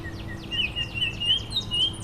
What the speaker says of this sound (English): A Baltimore Oriole.